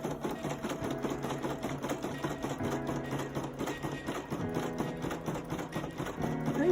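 A Brother PE800 embroidery machine stitching steadily at close range, a fast even mechanical rattle with a regular ticking rhythm that holds constant throughout.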